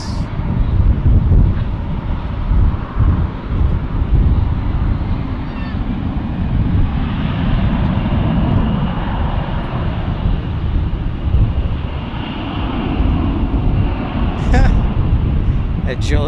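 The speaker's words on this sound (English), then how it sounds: "I haven't seen an A321 from DFW in a while." An Airbus A321 airliner at Dallas Fort Worth airport rumbles steadily with a broad, low roar across the whole stretch, mixed with wind buffeting, while someone talks over it.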